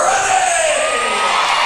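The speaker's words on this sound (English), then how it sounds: "you hear the crowd as Joe Northern gets them fired up for this" Basketball crowd at a Christmas tournament game roars and cheers steadily, loud and dense with whoops and yells throughout, no clear speech on top.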